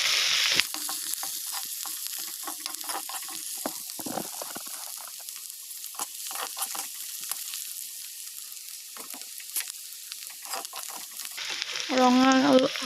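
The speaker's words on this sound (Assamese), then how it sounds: "মই পিচি লোৱা আদাখিনি ধুনীয়াকৈ ভাজি ল'ব ৰঙচুৱাকৈ" Peeled ginger frying with dried red chillies in a pan for a black gram dal, a steady sizzle with scraping stirs throughout, growing louder with bubbling oil near the end.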